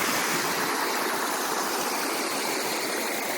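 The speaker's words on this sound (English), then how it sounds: "We're down at the 115 Creek behind our campground for the night." A creek flows behind a campground beside a beaver dam in the mountains, a steady broad rush of moving water close by, continuous and even with no voices.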